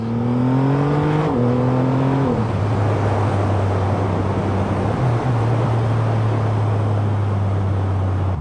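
Triumph Rocket 3 R motorcycle engine pulling hard while riding, a loud rising roar that climbs through gear changes and then holds a steady drone with wind rush.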